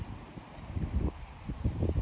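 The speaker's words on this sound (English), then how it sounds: "it's super windy right now" Strong wind buffets the microphone in low rumbling gusts that swell and fade, loudest toward the end, with no voices.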